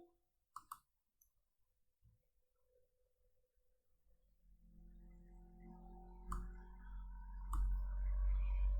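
A computer mouse clicks on a Run button, a couple of quick sharp clicks near the start with sparse ticks after, then a rising low hum and tonal whine from the machine.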